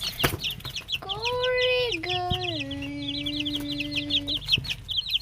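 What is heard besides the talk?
chickens clucking in a coop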